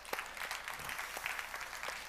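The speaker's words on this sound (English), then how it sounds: "Big round of applause for the awesome content that's been here from everyone." Faint, steady applause from a conference audience at a tech event, a soft even patter of many hands clapping with no talk over it.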